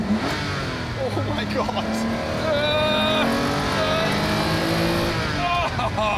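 A Lamborghini Countach's engine revs hard as the car accelerates after a downshift, the rising engine note heard from inside the cabin with occupants exclaiming over it.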